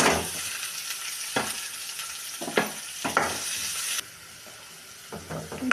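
Finely chopped onions frying in hot oil, a steady bright sizzle with a few louder crackling bursts from stirring, close by and without talk.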